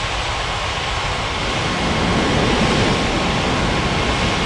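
An airliner landing at Bali's Ngurah Rai airport in the Unmatched Air Traffic Control game: a continuous broad jet rumble that swells slightly midway, with no talk over it.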